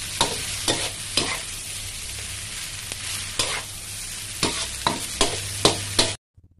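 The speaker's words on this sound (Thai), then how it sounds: "ผัดคลุกเคล้าให้เข้ากันอีกครั้งหนึ่งนะคะ" Glass noodles and egg are stir-fried in a pan, with a steady sizzle under repeated sharp scrapes and taps of the spatula that end abruptly in silence.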